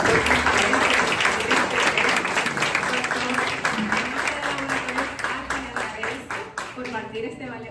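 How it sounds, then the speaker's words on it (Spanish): Sustained audience applause at a talk on emergency department lawsuits and rulings, a loud, dense ovation of many clapping hands with crowd voices mixed in, tapering slightly toward the end. "Señores, vamos a darle un fuerte aplauso a nuestro"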